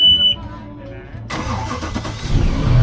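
A Chaparral 264 boat, a 27-foot cruiser, has its engine cranked and fired up, a sudden loud broadband roar taking over after a quiet start and settling into a steady running rumble, with people talking nearby.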